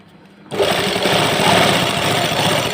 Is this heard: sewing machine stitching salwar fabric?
yes